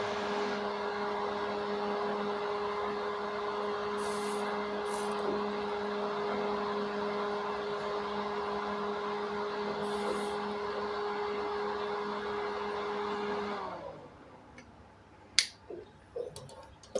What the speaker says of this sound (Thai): ถ้าเราเปิดพัดลมับ ควันที่มันออกมานะ มันก็จะดูดออกไปนะ